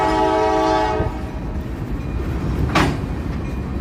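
A train passes through the small railroad town of Sunman, Indiana, sounding a loud, steady horn blast up close that cuts off after a second, followed by the rumbling roll of the rail cars.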